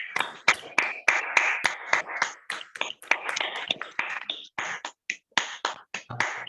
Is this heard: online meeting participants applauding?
yes